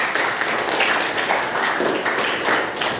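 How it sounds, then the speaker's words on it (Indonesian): A classroom audience at a junior high school claps steadily, a dense, even patter of applause that keeps going without a break. "Boleh dong tepuk tangannya buat mereka."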